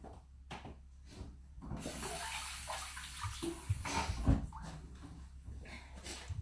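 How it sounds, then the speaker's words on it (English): Running tap water splashes steadily while sticky hands are rinsed under it, a continuous rushing flow that rises and shifts with rubbing and occasional louder splashes. "I'm just going to go and wash my hands because they're very sticky at the moment"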